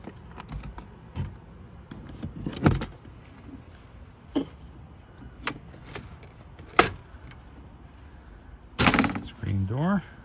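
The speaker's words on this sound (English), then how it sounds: "Screen door, keep the bugs out." The screen door of a 2003 Casita camping trailer being worked: a series of close clacks, rattles and latch clicks, ending in a longer scraping slide and a creaky squeak.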